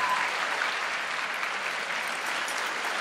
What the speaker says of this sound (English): can we please have a massive round of applause for our dean